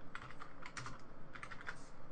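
Light plastic keys clatter on a computer keyboard in a quick, uneven run of close, fairly quiet clicks, with no voices.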